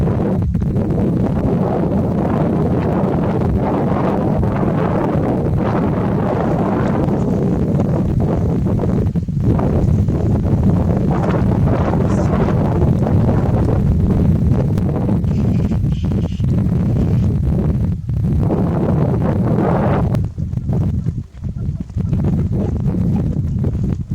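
Morning mountain wind on a Himalayan trek buffets the microphone in a steady low rumble, loud and close throughout with brief lulls near the end.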